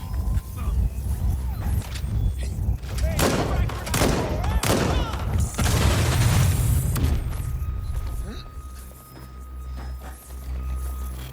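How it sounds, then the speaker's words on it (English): Video-game gunfire in Watch Dogs: Legion, a dense run of loud shots and bursts over several seconds, mixed with a voice speaking and a low rumbling game score underneath. "Gun fire!"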